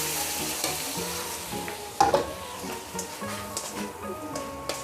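Three jumbo hotdogs frying in a pot are stirred, with a steady sizzle and occasional spoon scrapes, one sharper clatter midway, close and moderately quiet.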